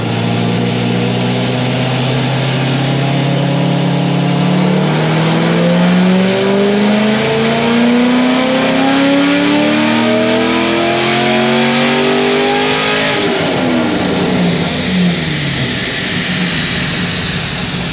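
A Chevrolet Corvette Z06 revs hard on a dyno, its engine note rising steadily for about thirteen seconds before the throttle drops off and it winds down, loud, close and continuous.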